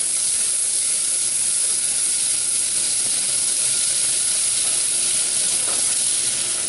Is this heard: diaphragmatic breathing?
no